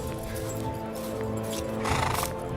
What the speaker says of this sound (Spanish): Traed un caballo para el chico.